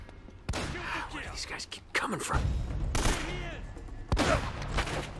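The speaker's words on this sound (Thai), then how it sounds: "โดนลูกซองยิงกระเด็นมานี่เลยอ่ะ" Shotgun fire in the action game Uncharted: Drake's Fortune, sharp heavy blasts at intervals amid loud combat noise, with sudden strong bangs near the start and toward the end.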